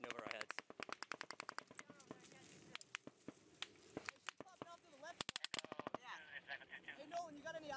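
Gunfire in a firefight in Afghanistan: rapid automatic bursts and single cracks ring out in quick succession, loud and sharp at close range, with soldiers' voices calling out between shots.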